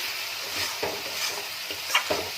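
Potatoes and peas masala being stirred in a frying pan, with a steady sizzle and scraping stir strokes, close and moderately loud, no talking.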